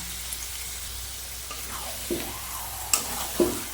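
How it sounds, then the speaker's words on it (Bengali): Chicken gizzards and liver sauté with spices in a pan, giving a soft steady sizzle. Several louder scraping stirs of a utensil stand out near the end. "এবার এটাকে ভালো করে আমি কষিয়ে নেবো"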